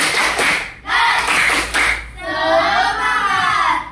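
A group of children clap the rhythmic 'tepuk semangat' chant in a classroom, loud sharp claps in quick bursts with a brief pause, then excited young voices shouting together.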